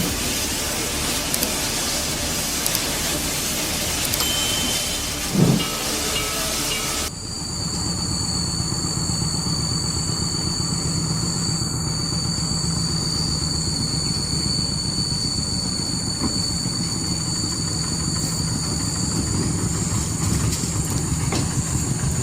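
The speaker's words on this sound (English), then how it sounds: "The locomotive rolls onto a giant rotating platform that spins the engine around so it can head back the other way." Steam locomotive rolling slowly onto a rotating turntable, a steady broad rumble of rail noise with a sustained high metallic squeal, continuous and fairly close, no talking.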